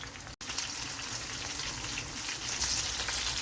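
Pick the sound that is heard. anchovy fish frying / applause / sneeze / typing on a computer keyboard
anchovy fish frying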